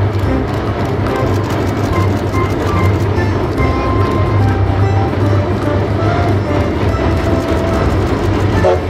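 A toy train runs continuously and loudly with a steady rattling, mechanical hum and clatter from start to end, alongside a toy truck scene, with no clear voices over it.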